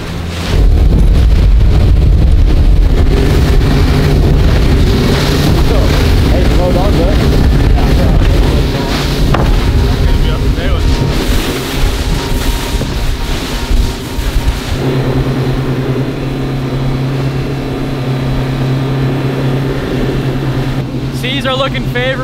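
A panga boat runs offshore in the Gulf of Mexico, its motor a steady low drone mixed with heavy wind buffeting the microphone and rushing water, loud and close throughout, with voices talking over it.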